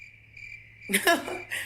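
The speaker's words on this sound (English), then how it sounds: "Crickets" A few quiet, high-pitched cricket chirps, then a burst of louder, denser insect-like chirping that ends abruptly, over a faint low hum.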